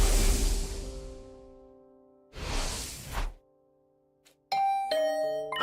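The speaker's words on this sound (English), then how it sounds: "Was that my doorbell?" Doorbell in the video game The Hundred Line, a clear ding-dong chime that rings out after two soft whooshing swells and a brief silence.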